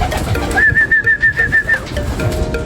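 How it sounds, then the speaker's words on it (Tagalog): Racing pigeons just arrived from Lopez, Quezon coo and call while drinking, a clear repeated warbling call lasting about a second, close and prominent over steady background noise. "Ibon natin mga kalapatids fresh from Lopez, umiinom"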